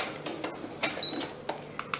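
A sewing machine stitches fabric in a quick, uneven run of short mechanical clacks and ticks, close up and fairly quiet, with no voices.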